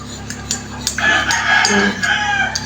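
A rooster crows loudly and fairly close by, one drawn-out call in the middle, with faint clucks and light background noise around it.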